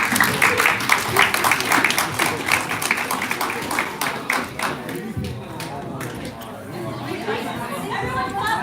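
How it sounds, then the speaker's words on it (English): Audience applause at a co-op panel event, a burst of rhythmic clapping that tapers off into crowd chatter and voices, with scattered claps continuing faintly. "Everyone clap again"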